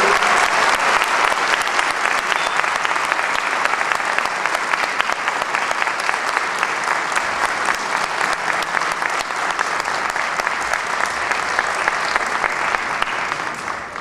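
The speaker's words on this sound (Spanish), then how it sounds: "les doy un aplauso, por favor" A large audience claps steadily and loudly for the whole stretch, a dense, even wash of applause with no voices, at a cartoonists' event.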